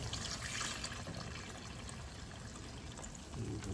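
A flour and water mixture poured into a pan for gravy, a quiet continuous liquid trickle and splash lasting a few seconds.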